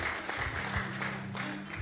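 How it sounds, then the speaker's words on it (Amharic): Audience clapping at a church gathering, a dense steady patter of many hands lasting the whole moment, fairly close and even in loudness, with a faint voice or music tone underneath. "እሺ አጨብጭቡላቸው እስቲ"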